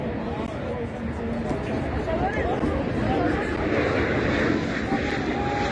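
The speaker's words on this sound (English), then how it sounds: "as a plane that comes into land or takes off" An airplane landing or taking off near a football ground during a Division 1 American football game, a steady broad engine roar filling the scene at moderate loudness, with crowd chatter and a voice underneath.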